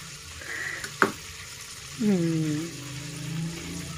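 Jaggery rice frying in a pan gives a soft sizzle, interrupted by a sharp clink and a brief burst of stirring and scraping. Someone speaks over the cooking.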